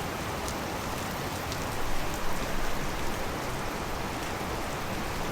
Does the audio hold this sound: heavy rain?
yes